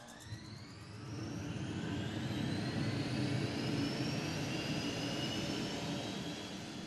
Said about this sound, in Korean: 출고 전에 거치는 최종 엔진 테스트.